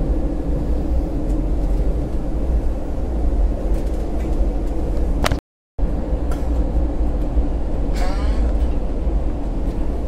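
Inside a C1 coach of a Vande Bharat Express running between Katra and New Delhi in winter, a continuous loud rumble of wheels and air fills the car, with a brief dropout and faint clicks.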